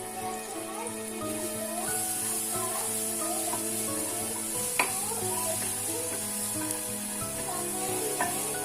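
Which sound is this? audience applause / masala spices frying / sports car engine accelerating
masala spices frying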